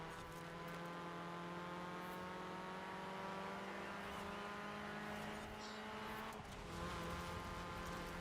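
A race car's engine and exhaust note in a track-racing video game, a steady sustained drone with strong harmonic tones that shift pitch slightly as the car drives on, continuous and moderately loud throughout.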